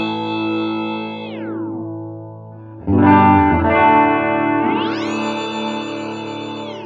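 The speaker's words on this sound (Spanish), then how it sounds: "cuando opere el whammy, escucharéis dónde está" Sustained electric guitar notes run through a whammy pitch effect on an OMEC Teleport audio interface, sweeping smoothly down, then up by large intervals, with chorus and reverb adding a wide, shimmering tail.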